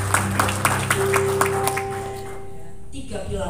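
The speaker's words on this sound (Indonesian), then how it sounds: "Boleh tepuk tangan yang meriah dong." Audience applause at a college graduation ceremony, with sharp claps early on under sustained tones, then tapering and thinning out toward the end.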